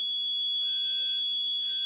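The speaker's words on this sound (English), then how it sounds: "it looks like the fire alarm went off" A fire alarm is going off indoors, a loud, piercing electronic tone that holds steady and unbroken from start to finish, with no one talking over it.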